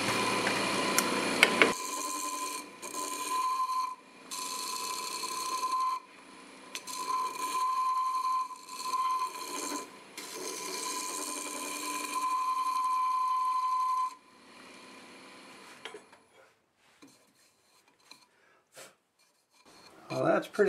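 A negative rake scraper cuts segmented wood on a spinning lathe, giving a steady humming, rasping drone in several bursts separated by brief pauses, then the machine falls quiet with a few faint clicks.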